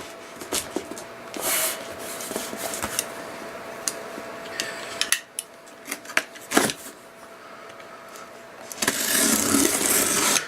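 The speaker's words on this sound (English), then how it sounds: "We'll open up the box here." A cardboard box holding a Cat Pump 1CX013 gets opened, with scattered crackles, scrapes and taps of cardboard and packing close by, ending in a louder rustling burst.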